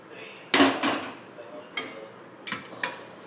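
Spatula scraping and knocking in a pan while a mixture with plenty of coriander is stir-fried, a few sharp metallic clinks and scrapes in irregular bursts, fairly close, with quiet room noise between.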